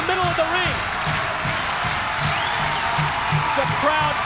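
Wrestling arena crowd clapping in a steady staccato rhythm, regular beats about twice a second under a commentator's voice and crowd noise.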